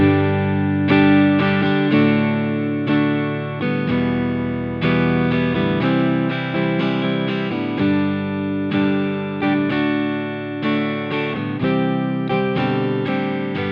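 Electric guitar strums through a chord progression, shifting between lighter passages and harder, accented bursts that build energy.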